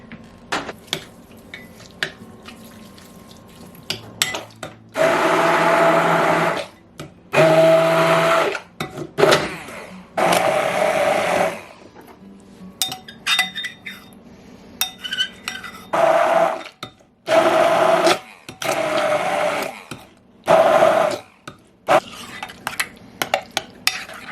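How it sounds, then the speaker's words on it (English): An immersion blender whirs in repeated short bursts, loud and close, with brief pauses of quiet between each run. "I'm going to puree with my immersion blender."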